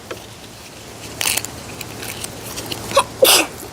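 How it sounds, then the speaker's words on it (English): A person sneezes indoors while building a plane kit. Two short, sharp bursts stand out above quiet background hiss, the second louder. "Oh, you sneezed."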